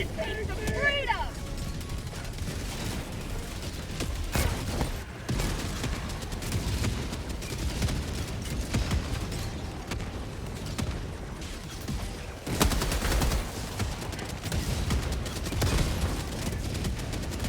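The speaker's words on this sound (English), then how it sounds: "it's only 2 shots with a recoilless rifle to the head" Recoilless rifle shots in a chaotic shooter video game: heavy booming blasts stand out among continuous dense gunfire and explosions, loud and layered, with a player talking over the action.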